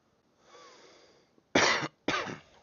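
A man who has been sick for a couple of days coughing, a faint wheezy breath followed by two sharp, close, harsh coughs in quick succession.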